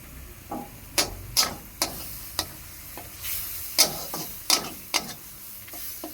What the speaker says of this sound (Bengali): মশলাটা ভালোভাবে ভেজে নেব।